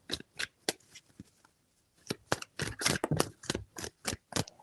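Tarot cards are shuffled in quick riffling bursts, a short run, a pause, then a longer series of crisp flutters, close and fairly quiet.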